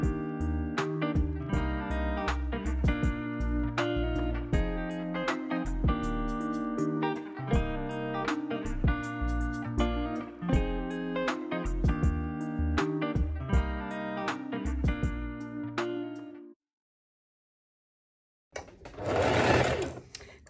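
A domestic sewing machine stitches a fabric tote bag seam, running in a steady rapid rhythm for most of the clip before stopping, followed by a short pause and a brief burst of handling noise.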